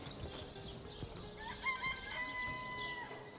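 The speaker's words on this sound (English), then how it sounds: "A talking chicken." A chicken in the Divinity: Original Sin video game clucks over steady game ambience and background music.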